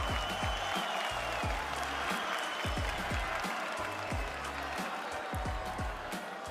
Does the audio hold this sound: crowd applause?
yes